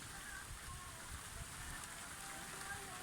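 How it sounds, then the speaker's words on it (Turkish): Heavy rain in Malatya, Turkey pours down in a dense, continuous hiss, faint and distant-sounding, with no voices over it. "Nasıl yağıyor be?"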